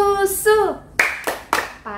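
Children clap along to a Sunday school clap song, with a few separate loud claps between sung phrases in a rhythmic pattern.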